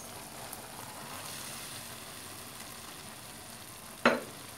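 Rice vermicelli noodles frying in a hot pan with broth, giving a steady, quiet sizzle throughout, with a short sharp clatter of stirring near the end.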